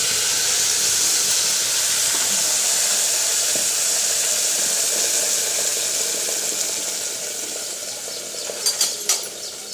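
Masala paste dropped into very hot oil in a pressure cooker while making chicken curry gives a steady, loud sizzle and hiss that holds throughout, with a few sharper pops and crackles near the end.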